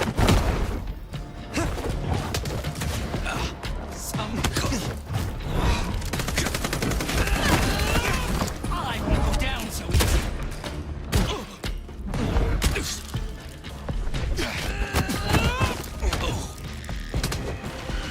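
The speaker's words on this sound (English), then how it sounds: "I'm shooting." Sustained rapid gunfire from Vampire: The Masquerade - Bloodlines 2, dense bursts of shots with mechanical clatter and thuds running loud and continuous throughout.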